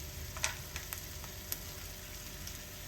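Mustard seeds, peanuts and cashews frying in hot oil make a steady, close sizzle, with a few sharp pops and crackles scattered across it.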